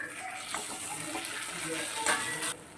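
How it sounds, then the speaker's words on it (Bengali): Hot water pours into a pan of fried masala for an egg and green banana kofta curry, splashing and hissing up close with a brief louder gush near the end. "এবারে জল গরম করে রেখেছি সেই জলটা দিয়ে দেবো"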